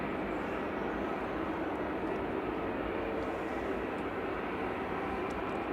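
An EasyJet airliner lining up for a Paris departure at Manchester Airport gives a steady, broad engine roar that holds evenly throughout with no voices.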